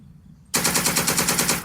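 A rapid burst of automatic gunfire from the war game Second Front erupts abruptly after a short quiet moment, loud, rhythmic and sustained to the end.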